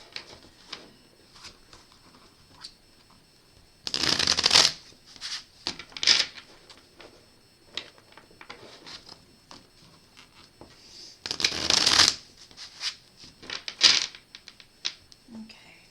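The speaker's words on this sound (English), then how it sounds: "So I'm going to get some shuffles in here with these cards." Tarot cards riffle and shuffle in two longer bursts with scattered snaps and taps between, close up and crisp against a quiet room.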